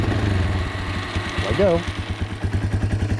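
A motorcycle engine cranks and catches, settling into a steady, throbbing idle with a rough rhythmic pulse, close and fairly loud, while a person speaks briefly over it.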